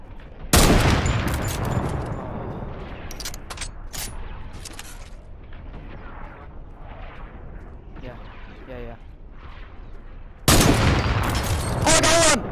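Heavy gunfire in a video game blasts out a wall, with loud bursts of shots at the start and again near the end, while players talk excitedly over the quieter stretch between.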